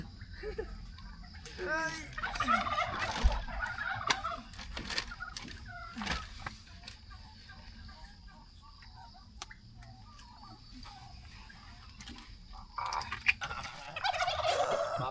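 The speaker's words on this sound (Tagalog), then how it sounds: "Daming pabo." Several wild turkeys gobble and cluck at a mountain campsite on Sunset Peak in Nueva Ecija, their calls coming repeatedly at moderate distance among crickets and faint background noise, with a few sharp nearby knocks.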